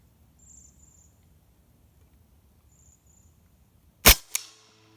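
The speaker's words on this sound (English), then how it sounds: "We're just going to go first shot on the regular 2x6." A Hatsan Blitz .30 caliber PCP air rifle fires a single sharp, loud shot into a 2x6 wooden board, with a quick secondary impact crack, after quiet outdoor insect chirps.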